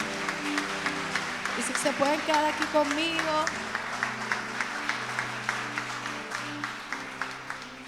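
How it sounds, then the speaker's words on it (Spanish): A church congregation applauds and cheers the Lord, steady clapping that runs under a woman preaching in Spanish, with faint music at first. "Denle al Señor un fuerte aplauso."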